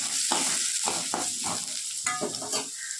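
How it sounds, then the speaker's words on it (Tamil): Fennel seeds fry in hot oil with a close, soft sizzle broken by several irregular bursts of crackling and stirring scrapes, with no talking. "இப்போ சோம்பு பொறிஞ்சிருச்சு இன்னும் வதக்கிட்டுக்கலாம்"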